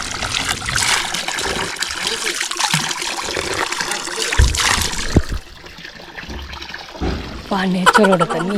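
Drinking water trickles and splashes steadily close by near Sathodi Falls, with brief louder splashes and a voice talking over parts of it.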